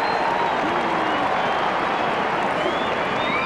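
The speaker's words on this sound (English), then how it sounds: "Look at that Collingwood crowd now" A Collingwood football crowd at Victoria Park roars and applauds after a goal, a dense, sustained wash of clapping and cheering that fills the stadium, with a commentator speaking over it.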